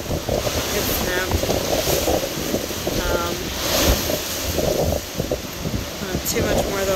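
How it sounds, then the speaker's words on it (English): Strong Hurricane Ian wind in North Port buffets the microphone with loud, continuous roaring and gusting rushes, steady throughout with occasional surges and faint background voices. "Wind's too bad to take a video that way."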